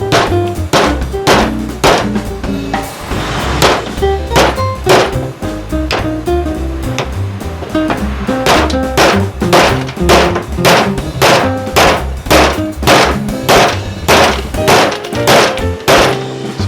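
Repeated hard thunks of a steering rack part being hammered into place, lubricated with silicone, struck in a steady run of loud, closely spaced blows with a few irregular gaps.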